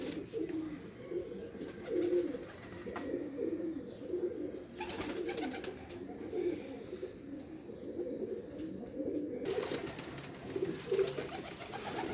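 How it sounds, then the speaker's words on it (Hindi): Pigeons coo softly in a loft, low rolling calls repeating on and off over a quiet background with occasional brief rustles and bumps. "बहुत ही ज़्यादा कबूतर है"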